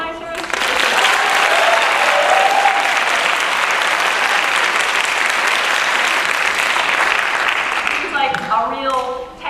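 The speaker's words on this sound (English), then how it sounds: "can you give a round of applause to the organizers?" A conference audience gives the organizers a loud, sustained round of applause that fills the room for several seconds before fading, with a voice speaking faintly at the start and again as the clapping dies.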